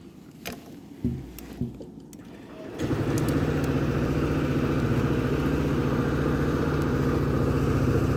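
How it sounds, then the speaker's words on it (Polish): A few clicks and mechanical sounds, then a Honda Forza 125 scooter engine catches and settles into a steady, buzzing idle close by. "Odpalamy skuter."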